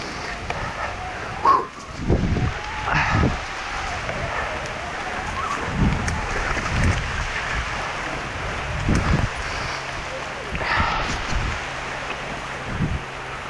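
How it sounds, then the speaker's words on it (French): Heavy torrential rain falls on a trail beside the Trans Terrebonne, a constant dense hiss with wind buffeting the microphone and scattered thumps. A few birds call faintly in the background. "C'est incroyable, la pluie qui tombe, ça n'a aucun sens. Torrentiel, torrentiel."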